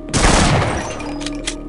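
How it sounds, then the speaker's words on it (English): Enemy soldiers in the Half-Life video game open fire in a loud, dense burst of gunfire that starts abruptly and carries on as a sustained rattle, with a few sharper cracks near the end. "Wow, now you're starting shooting."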